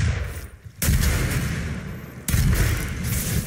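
Sniper gunshots in the shooter game Doom, with two loud, close booming blasts spaced about a second and a half apart, each trailing into a rumbling decay.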